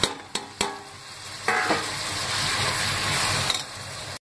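Chopped tomatoes hit hot oil for an egg biryani masala: a few sharp clinks of a spoon, then a burst of sizzling and stirring that hisses on before cutting off abruptly.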